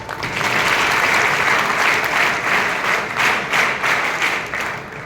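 A large crowd at a military camp award ceremony claps loudly and densely. The applause swells quickly, stays sustained with a slight pulsing, then tapers off near the end.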